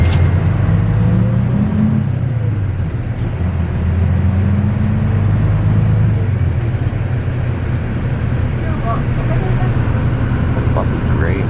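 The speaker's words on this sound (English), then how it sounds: "This bus is great." Steady low engine drone and road rumble heard from inside an old mountain bus in Japan as it travels, continuous and fairly loud, with faint rattles and no talking.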